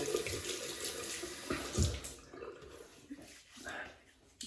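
A tap runs into a sink as a safety razor is rinsed during a wet shave, giving a close splashing water stream that fades partway through, while someone talks over it.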